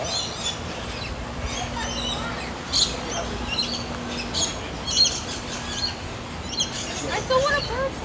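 Several kinds of birds at Busch Gardens give scattered, sharp chirps and tweets, some near and some farther off, over a murmur of background voices.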